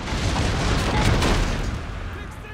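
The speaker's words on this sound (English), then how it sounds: "our guns are ready to respond with the barrage of their own" A dense, loud artillery barrage of massed guns in the Total War Pike and Shot game, rumbling booms blending into a continuous roar over a couple of seconds.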